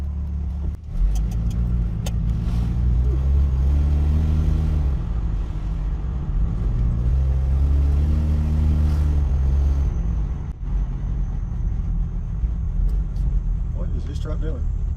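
A 1967 Ford Mustang engine rumbles steadily while driving, with low rising and falling tones as it accelerates and shifts, close and continuous throughout, with light road noise alongside.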